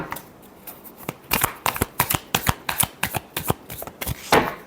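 Tarot cards are shuffled by hand in a quick series of crisp riffling snaps and flutters, close and clear, with a short pause between bursts.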